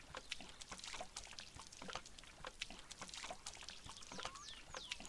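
Diesel fuel poured by hand into a tractor's tank, some spilling onto the ground: a faint, uneven trickle with scattered clicks and knocks, quiet and close.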